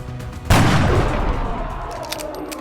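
A single sniper rifle shot fired during XCOM: Enemy Within battlefield gameplay, a loud sudden crack with a long, booming, reverberant tail that slowly fades.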